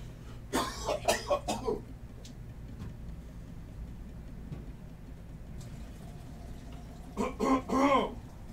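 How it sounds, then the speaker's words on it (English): A person coughs hard in a quick cluster of several bursts, goes quiet through a long stretch of soft room noise, then coughs again in another close series near the end. "I need to get some water before I cough my brains out here"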